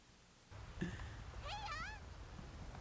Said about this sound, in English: was that a cat talking?